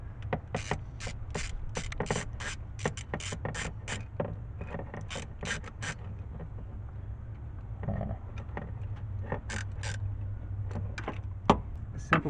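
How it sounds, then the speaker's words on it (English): A socket wrench ratchets on a 1994 Chevy Cheyenne truck during an ignition repair, quick clicking bursts in clusters separated by short pauses, close and fairly quiet, no voices. "Let me throw the socket on there."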